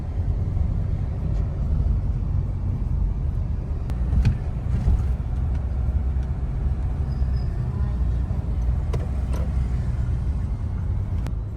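A car engine drones steadily at low pitch while driving toward parking at the Buddha Temple in Dehradun, Uttarakhand, a continuous rumble with faint road and traffic noise throughout, no voices over it.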